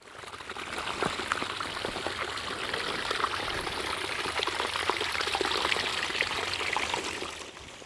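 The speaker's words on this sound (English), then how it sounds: "we just open here the like a door, and all the water comes" Water rushes steadily through an open gate in the channel of an old mill, flowing back toward the river, a continuous close, full splashing gush with no talking.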